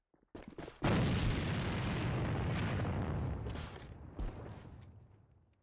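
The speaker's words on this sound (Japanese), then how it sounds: "おい、 手榴弾を使うぞ。" A grenade goes off in the online shooter AVA, a heavy close blast that booms and rolls on for several seconds before fading, with a smaller thump near the end and no speech.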